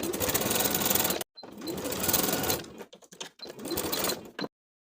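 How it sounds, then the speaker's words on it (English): A sewing machine tacks cardigan fabric in three short bursts of rapid stitching, the needle chattering loud and close with brief pauses between runs before stopping. "Then we're going to tack that material in place for a distance of about 1/4 inch."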